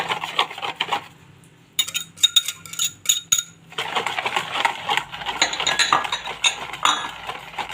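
Eggs beaten for sponge cake batter, with a fast, rattling clatter of a whisk or fork against the bowl coming in uneven bursts, fairly close and with no talking.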